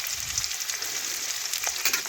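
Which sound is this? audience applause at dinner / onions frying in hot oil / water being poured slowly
onions frying in hot oil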